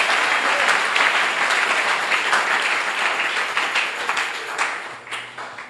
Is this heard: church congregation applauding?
yes